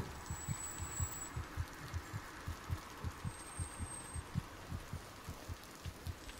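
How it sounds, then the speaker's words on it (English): A heartbeat in the video game Among the Sleep: steady, fairly fast low thumps repeat in an even rhythm over a faint background hum, with no talking. "Why is my heart beating so fast?"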